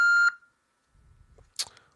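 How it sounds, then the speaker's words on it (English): A single short voicemail beep on a Google Voice phone call sounds clearly at the start, then fades into near silence with faint low rumbles and a brief soft click near the end. "Please leave a message after the tone."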